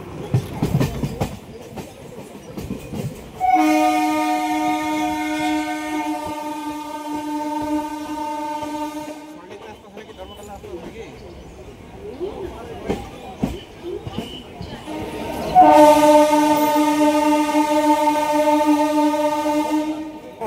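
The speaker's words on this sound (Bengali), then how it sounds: "আস্তে আস্তে দেখতে পাচ্ছেন আমাদের ট্রেন" A train at Dum Dum Junction railway station sounds its horn in two long, loud, sustained blasts separated by a gap of rumbling, clattering rail noise and background voices.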